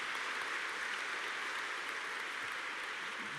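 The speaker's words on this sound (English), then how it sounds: "Please, a round of applause for these two leadership women." A large audience at a United Nations HeForShe summit applauds in a steady, dense wash of clapping that holds at an even level throughout, with no voices above it.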